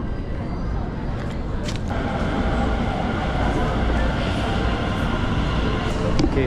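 Steady, loud rumble of a train ride in Taipei, Taiwan, heard from inside the carriage, with continuous low rolling noise and faint rattling throughout and no clear talk.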